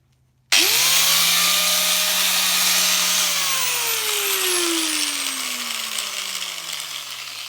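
An electric sander starts abruptly and runs steadily, grinding rust off the body of a 1989 Nissan Patrol, loud and close, its pitch slowly sagging as it works.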